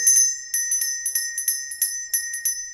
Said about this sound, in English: the bell would ring